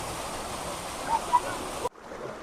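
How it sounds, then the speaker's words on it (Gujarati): Khuniyo waterfall on forested Pavagadh hill pours with a steady, broad roar of falling water that stays even, then drops away abruptly just before the end. "કિનારાનો આવો ધોધ આવે છે ખૂબ સુંદર મજાનો ધોધ આવે"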